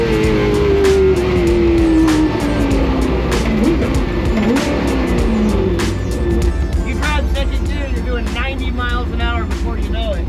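A 1000hp naturally aspirated C8 Corvette drift car revving to 10,000 RPM, loud engine tone sweeping down as it passes, with tire noise and people talking over it.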